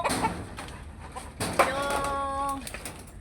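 A chicken in a home garden lets out a few short clucks and a longer drawn call, close by, amid quiet outdoor background and faint voices.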